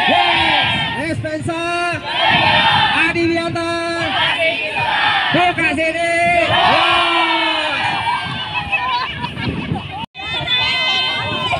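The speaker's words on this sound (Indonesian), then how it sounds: "Ya, oke, tepuk tangan." Loud crowd of adults and children cheering, shouting and clapping at an indoor family gathering of a school cooperative, sustained excited noise throughout with a brief dip near the end.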